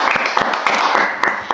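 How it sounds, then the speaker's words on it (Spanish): A short burst of applause welcoming a new host to a show, with dense, lively clapping that lasts only a moment. "Démosle un aplauso."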